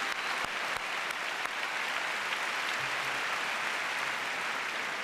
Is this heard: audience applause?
yes